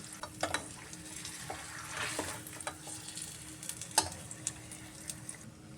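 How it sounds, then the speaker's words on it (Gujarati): Dates roast in ghee in a pan on a low flame, giving a soft, steady sizzle broken by scraping stirs and a few light taps of the spoon, heard up close with no talking. "આપણે તેને હવે ઘીમાં ખજૂરને શેકી લેશું અને આવી રીતે ફેરવતા જશું"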